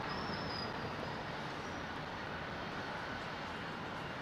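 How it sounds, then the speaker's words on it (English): Aircraft with Rolls-Royce Trent XWB engines at London Heathrow, a faint, steady distant jet roar with a thin high whine near the start and no talk. "Trent XWB, last of the big fans in the Trent family."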